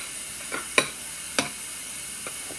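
Sticky homemade slime is stirred and mixed; a few soft, sharp squelching clicks come at irregular intervals over a faint, quiet background.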